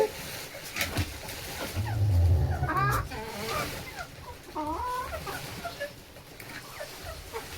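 Nine hens cluck and call close by, with a rooster's louder calls rising among them amid low farmyard noise.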